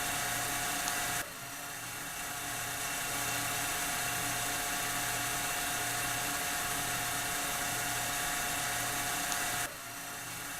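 A bench DC motor in an electrical machines lab spins up to a steady 1800 RPM, giving a constant high-pitched electric whine with a low hum that runs for most of the stretch and then stops.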